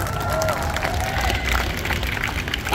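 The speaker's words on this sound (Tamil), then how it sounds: "ஒருத்தர் கைத்தட்டுகிறார்கள்" An outdoor audience at a Tamil street festival in Jaffna claps during a minister's speech, with scattered applause and crowd murmur mixed into a noisy open-air background.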